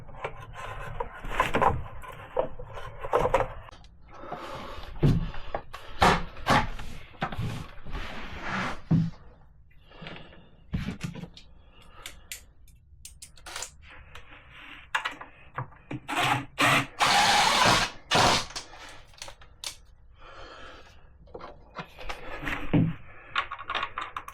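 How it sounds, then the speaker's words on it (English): Workshop handling sounds from fitting a skid plate to a Husqvarna 701 motorcycle: close clunks, scrapes and plastic-and-metal knocks come in irregular bursts separated by quieter gaps. "I'll put the skid plate on."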